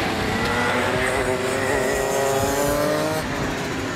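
Race cars roar past one after another at a bachelor-party racing outing, a loud continuous engine drone with shifting pitch and a hint of tire squeal, with no talk over it.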